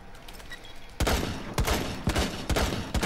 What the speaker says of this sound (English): They can shoot me through the wall